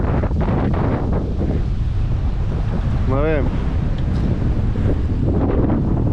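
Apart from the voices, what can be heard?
strong wind and waves at anchor, about 30 knots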